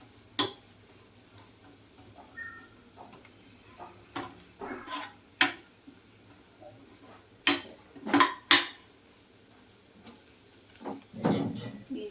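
Gram flour frying and being stirred in a pan over a low flame, heard as scattered soft spoon scrapes and clinks against the pan with quiet gaps between, close and fairly faint.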